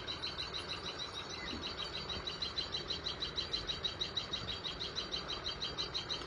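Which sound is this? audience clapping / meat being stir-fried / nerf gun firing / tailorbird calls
tailorbird calls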